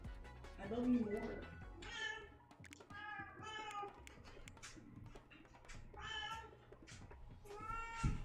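Cat meowing at home, a series of repeated plaintive meows in quick succession, close to the listener, mixed with a person talking quietly.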